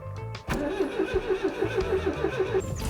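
Starter cranking on an abandoned old Citroën GSA, then a rough idle with a steady pulsing rhythm, loud and close, choke and throttle in play.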